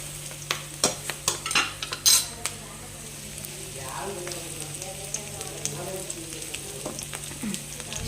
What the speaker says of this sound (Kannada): ಓಕೆ, ಇವಾಗ ಇದನ್ನು ಸ್ವಲ್ಪ ಫ್ರೈ ಮಾಡ್ಕೊತೀನಿ